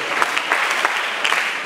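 A graduation audience claps for teachers and students in a brief, dense burst of applause that stays fairly loud and steady throughout.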